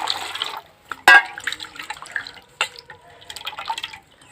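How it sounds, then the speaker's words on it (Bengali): Water is poured into a thin rice flour batter for chhita pitha, giving short splashy trickles and drips with a sharp splash near the start, close and fairly quiet between bursts. "আমি আরও কিছু জল দিয়ে দিচ্ছি।"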